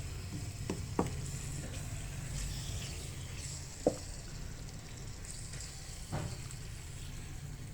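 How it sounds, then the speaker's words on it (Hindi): Meat frying in spice masala for a chicken mixed-vegetable sabzi, a soft continuous sizzle with a few sharp knocks of a spoon against the pan at irregular intervals. "तो अब थोड़ी देर के लिए हम जो है गोश्त को अच्छी तरह से भून लेंगे"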